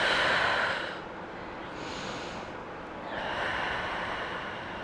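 Slow, deep breaths during a relaxing core stretch: a loud, airy inhale fades into a long exhale, followed by another rising breath, all close and unaccompanied.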